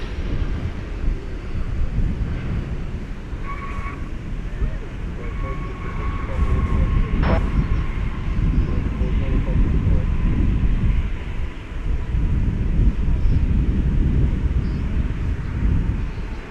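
An airliner on the move at DFW Airport, a steady rumbling jet roar with wind buffeting the microphone, while a person talks over it; a faint tonal whine comes and goes.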